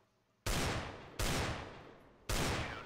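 Three loud, close gunshots in CS:GO, each a sharp broadband crack with a long decaying tail, spaced roughly a second apart in a one-on-one match.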